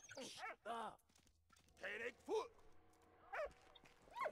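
A dog in the World War I video game Valiant Hearts: The Great War gives several short barks and whimpers in separate bursts, close and clear, with quiet game background between them.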